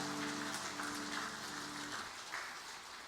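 Congregation applauding the choir during a Sunday church worship service, a dense, steady wash of clapping that fills the room and slowly thins toward the end, with a sustained organ-like tone underneath for the first two seconds.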